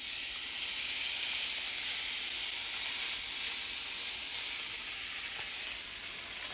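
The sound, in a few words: brisket with oil searing in a hot pan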